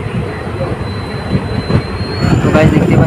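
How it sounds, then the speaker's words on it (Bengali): Train running slowly through forest between Bamanhat and Hasimara, heard from on board: a continuous rumble of carriages with thin, high wheel squeal, the rattle growing louder in the last second. "বনের মধ্যে দিয়ে আমাদের ট্রেনটা চলছে ধীর গতিতে"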